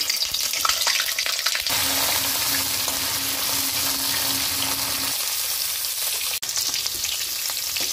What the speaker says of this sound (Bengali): তেল গরম হয়ে গেছে, আমি কপিগুলো ভেজে নেব।